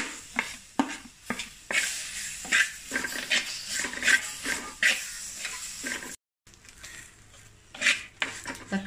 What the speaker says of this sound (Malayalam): നമ്മൾ അരിഞ്ഞു വെച്ചിരിക്കുന്ന തക്കാളി ചേർത്ത് കൊടുക്കുക.